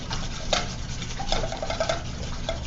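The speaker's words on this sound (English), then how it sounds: "just giving it a quick mix" Wet dough mixture of warm milk, melted butter, egg and yeast being stirred quickly in a bowl, a steady close churning swish with a few light clinks of the utensil against the side.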